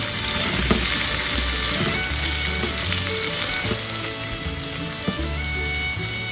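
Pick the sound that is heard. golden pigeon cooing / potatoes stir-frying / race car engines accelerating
potatoes stir-frying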